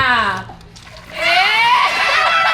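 Water is dumped over a person during a category challenge game at home, a sudden broad splash and slosh that follows excited high-pitched shouting and children's voices.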